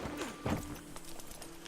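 Horse hooves clip-clop in Red Dead Redemption 2, a soft, steady rhythm of hoofbeats under a faint background drone.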